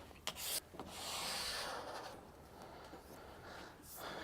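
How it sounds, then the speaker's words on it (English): A hard plastic scraper dragged along a waxed ski base, a close, rough rasping scrape in long strokes with a few sharper scratches at the start, quiet and alone. "now that we've used the hard scraper to get rid of the majority of the surface wax"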